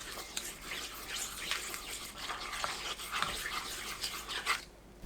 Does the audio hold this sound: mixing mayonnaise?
yes